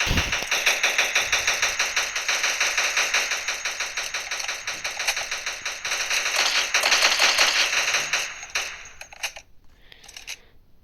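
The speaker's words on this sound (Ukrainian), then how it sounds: "А! Стріляють! Стріляйте по них!" Rapid, continuous bursts of video game automatic gunfire rattle on for about eight seconds, loud and close, then break into a few scattered shots before fading.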